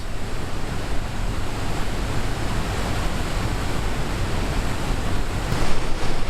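Rough river water rushing on a paddling trip at Glen Etive, a loud, unbroken wash of churning spray and wind filling the whole stretch, with a slight surge near the end.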